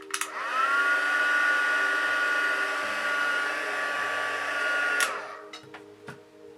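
A craft heat tool heat-sets a piece for a card, running as a loud, steady whirring blow for about five seconds before it switches off and leaves a quiet room with a few small handling clicks.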